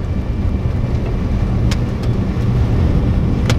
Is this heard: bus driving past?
yes